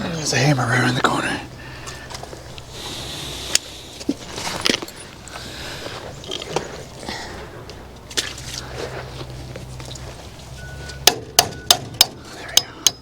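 Metal hammer blows driving a bolt, a burst of sharp clanks at the start, then scattered knocks and handling noise, ending in a quick run of loud, evenly spaced strikes near the close.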